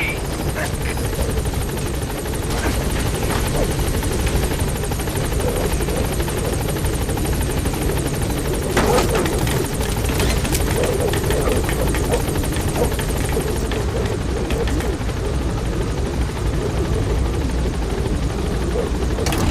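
The Pequod helicopter in Metal Gear Solid V: The Phantom Pain arrives at a landing zone, its rotor chopping loudly and steadily throughout while a radio voice speaks over it.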